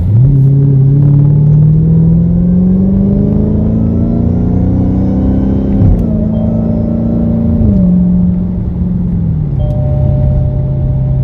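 A loud, raspy widebody Dodge Hellcat with its muffler deleted revs and accelerates hard, pitch climbing then dipping at gear shifts, a deep unmuffled roar throughout.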